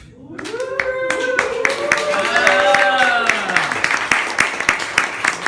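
Audience applause and clapping fill a talent-show stage, steady and fairly loud throughout, with a voice singing or calling over it and a sliding melodic tone layered on top.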